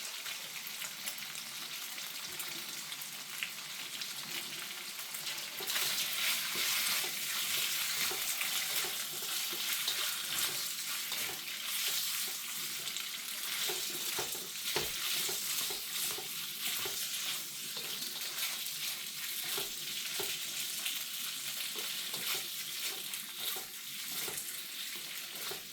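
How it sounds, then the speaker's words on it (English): Garlic sizzles in a hot stir-fry pan with chicken, shrimp and vegetables, giving a steady loud frying hiss broken by frequent scraping and stirring clatters throughout. "I just want to throw a little bit of garlic in here with this."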